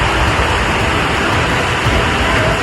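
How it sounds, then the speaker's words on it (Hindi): Torrential flood water rushing in a violent natural disaster, a dense, steady roar of churning water that fills the whole clip loudly and evenly with no voices. "पानी का ये प्रचंड प्रवाह प्राकृतिक विपत्ति की खौफनाक व्याख्या कर रहा है"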